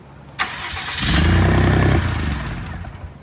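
A Ford F150 with the 2.7 twin turbo EcoBoost engine cranks and fires up, a sharp start followed by a loud, steady idle that holds briefly before tapering as it is shut down, nearby and without talk.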